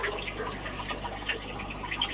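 Water flows through big blue filters into a 40 litre tank in a steady splashing trickle with small bubbling drips, close and continuous, with no talking.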